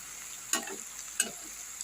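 Cabbage tipped into a pan with shrimp frying in it gives a steady hiss of sizzling, broken by two sharp crackling bursts as the food is stirred, close and alone with no voices.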